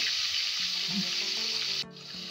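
Ginger garlic paste fries in a pan for achari beef, giving a steady bright sizzle. A few soft stirring clinks sound under it, and the sizzle drops noticeably near the end.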